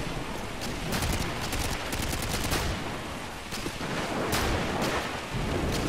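Rapid bursts of gunfire crackle through a practice session, overlapping rounds echoing like a fusillade across nearly six seconds with brief lulls between volleys.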